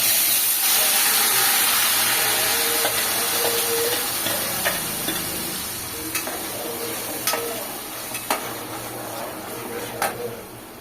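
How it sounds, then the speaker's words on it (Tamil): Onion and garlic paste hitting a hot pan for egg gravy, a steady broadband sizzle and hiss that slowly fades, with scattered sharp clicks and taps of a spoon stirring, no talking. "ஊற்றி விடுறேன். இது வந்து வெங்காயம் வெள்ளைப்பூடு பேஸ்ட்டு."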